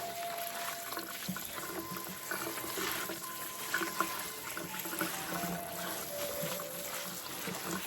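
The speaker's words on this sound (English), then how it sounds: "We want to give it a nice rinse too." Running water splashes steadily into a bowl as onions and bell peppers are rinsed, a continuous close wash with no talking.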